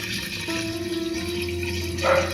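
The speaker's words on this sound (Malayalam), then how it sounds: "മൂന്നാം പാലാണ് ഒഴിക്കുന്നത്" Thin third-extract coconut milk pours steadily for a couple of seconds, a soft continuous trickle with a brief louder splash near the end.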